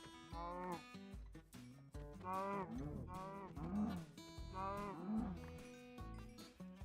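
Cows in Minecraft Bedrock let out a run of about five drawn-out, wavering moos, one after another, loud and close over steady in-game background sound.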